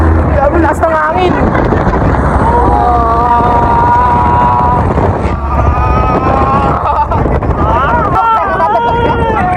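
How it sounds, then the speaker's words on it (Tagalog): Strong wind buffets the microphone in a steady, loud roar on an outing in Batangas, with voices talking over it and a boat nearby. "Grabe, lakas ng hangin."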